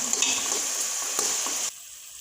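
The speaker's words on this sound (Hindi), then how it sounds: "अब हम प्याज को शामिल करेंगे और हल्का सा फ्राई कर लेंगे।" Onions lightly frying for white chicken karahi, a bright steady sizzle with a couple of stirring clinks, close and loud, dropping suddenly to a quieter hiss near the end; no voices.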